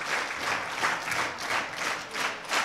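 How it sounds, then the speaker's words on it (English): An audience claps in unison on command in a large gathering, making a rhythmic series of loud, evenly spaced claps with no talking. "If you can hear my voice, clap 10 times."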